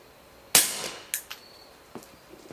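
Smith & Wesson M&P 22 pistol firing, heard as one sharp crack followed by several fainter, quicker reports and echoes over a couple of seconds, with no voices.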